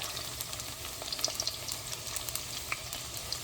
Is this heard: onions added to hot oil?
yes